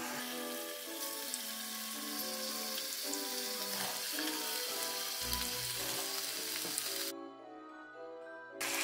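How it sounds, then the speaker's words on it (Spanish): Chicken fries in a little oil in a clay pot, giving a continuous crackling sizzle, loud and close, with a soft thump midway and a brief drop in the hiss near the end. "Vamos poniendo el pollo a freír en la cazuela."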